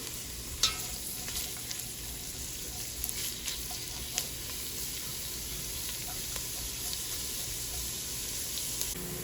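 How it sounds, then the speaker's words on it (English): Onions sweating over medium-low heat while being stirred, a gentle steady sizzle with scattered clicks and a few sharper knocks of the utensil against the pan. "we're gonna go ahead and add our onions. We're just gonna wanna sweat them and not develop too much color."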